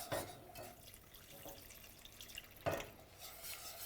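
Milk poured into a flour and butter roux for bechamel, a soft liquid splash and stirring, quiet and close, with two stronger bursts near the start and just before three seconds.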